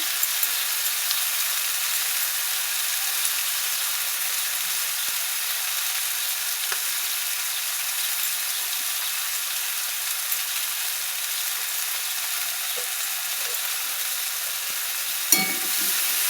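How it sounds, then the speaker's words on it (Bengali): Jute leaves fry in rohu fish oil, giving a steady, soft sizzle that stays even throughout, with an occasional faint stir or clink and no talking. "ভাজা হচ্ছে।"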